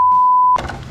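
A single steady censor beep tone runs loud and alone for about half a second, then cuts off abruptly into a burst of speech.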